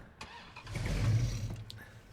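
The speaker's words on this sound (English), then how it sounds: "Let's get in the car and go." A car engine starts in the video game State of Decay 2: a brief cranking catch that swells into a low, steady rumble over about two seconds, moderately loud with no talking.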